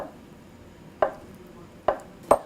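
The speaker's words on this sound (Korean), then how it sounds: "두부는 그냥 네모 반듯반듯하게 조금 작게 썰어 주세요." Three sharp knife chops cut tofu into small cubes on a cutting board at uneven intervals, close and crisp, with quiet pauses between them.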